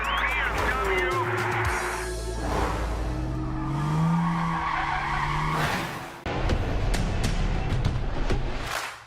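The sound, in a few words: BMW drift car skidding at Formula Drift Atlanta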